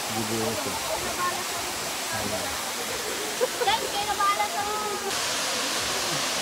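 Daranak Falls pours in a steady, broad rush of falling water, loud and unbroken throughout, while people talk over it.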